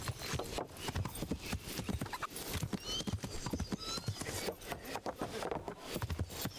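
Horse hooves clip-clop steadily in Kingdom Come: Deliverance, a continuous rhythmic clatter of close, moderately loud footfalls, with an occasional snort or creak mixed in.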